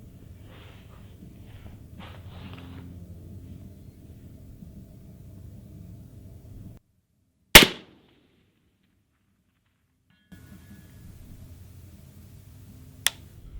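An LMT MARS-H .308 rifle with a 13.5-inch barrel fires at a 600-yard target: one sharp, loud crack over a quiet outdoor hum, followed much later by a faint, distant impact.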